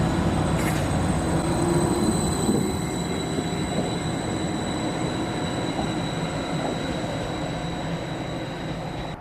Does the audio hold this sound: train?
yes